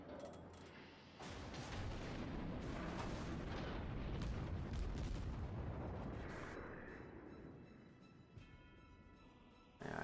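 Heavy naval cannon fire from warships in the World of Warships game, a dense, sustained rumbling roar of booming salvos and explosions filling most of the stretch before tapering, with a sharp blast near the end.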